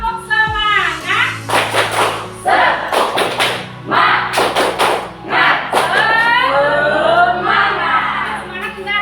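A classroom of students does a rhythmic spirited clap in unison, with sharp loud bursts in quick patterned groups and voices chanting along between and over the claps.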